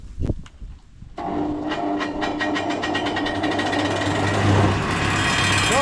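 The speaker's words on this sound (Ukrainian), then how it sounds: "Зараз вріжу з такої, ну це сороковка доска, вріжу рейки і наріжу такі клини." A sawmill-style power saw cuts a 40 mm wooden board into rails. A loud, steady machine drone with rhythmic cutting pulses follows a brief quieter start and runs close throughout without speech.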